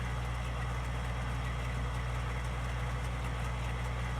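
A tractor engine idles in Farming Simulator 19 with a steady, low, droning rumble that holds constant throughout and has nothing else over it.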